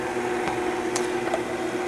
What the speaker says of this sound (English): We're going to mix this for about 20 seconds to fully develop and aerate the cake mixture.